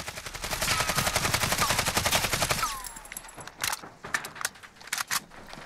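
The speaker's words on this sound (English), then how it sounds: "we'll go ahead and fire this without adjusting for recoil here" An AKS-74U fires a long, continuous full-auto burst in Call of Duty Modern Warfare, loud and rapid for about three seconds. It then breaks into several short, sharp bursts with clinking casings between them.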